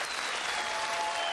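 Studio audience applause at a comedy show, a short dense burst of clapping from many hands, steady and full throughout with no talking.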